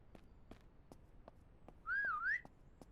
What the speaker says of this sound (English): That whistle's quite useful.